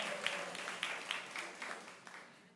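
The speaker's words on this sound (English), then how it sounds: "Round of applause for Janae." An audience at a storytelling night in Bremerton, Washington applauds a storyteller, warm steady clapping with a few sharp individual claps and cheers, slowly thinning toward the end.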